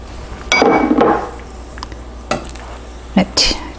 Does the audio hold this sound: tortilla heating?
yes